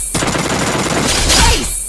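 Loud gunfire in the video game Free Fire fills the moment, a dense, continuous burst of close shots lasting under two seconds.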